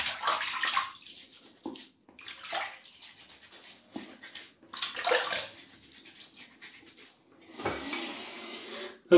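Tap water running and splashing in bursts at a sink as a face is wetted before a shave with a Giesen and Forsthoff safety razor, close and intermittent with short pauses.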